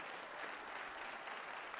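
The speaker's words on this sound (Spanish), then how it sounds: "Gloria a Dios, denle ese aplauso fuerte al Señor." A church congregation applauds in praise, a steady even wash of clapping from many hands, fairly quiet and unbroken for the whole stretch, with no voices standing out.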